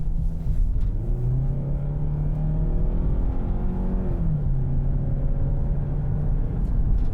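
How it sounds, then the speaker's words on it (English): A 2023 Kia Sorento AWD engine heard from inside the cabin rumbles and climbs in pitch as the SUV accelerates, a steady droning growl with a gear shift midway. "hopefully we'll pick up some of the sounds of this Sorento engine."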